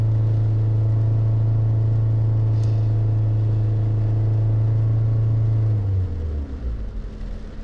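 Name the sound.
2007 Toyota Camry engine revving at 3200 rpm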